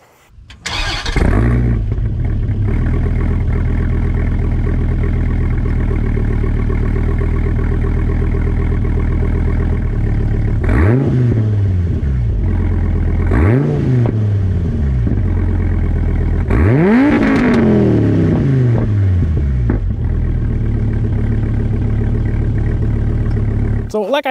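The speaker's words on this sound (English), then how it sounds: "so you can actually hear the exhaust pipe there." A tuned Dodge Viper GTS with no rev limiter starts up loud and idles with a deep, heavy exhaust rumble, then its engine revs hard three times while standing still, each blip rising and falling back to idle.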